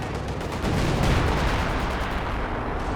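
A smoke barrage fires in the real-time strategy game Company of Heroes 2, a dense, continuous rumble of artillery booms that swells after the first half-second and rolls on steadily.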